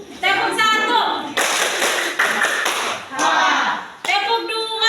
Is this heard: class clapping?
yes